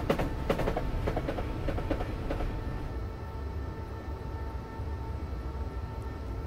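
A Southern Class 377 EMU electric commuter train in Train Simulator 2016 rumbles steadily along with a low hum, and quick clicks from wheels over rail joints come early on.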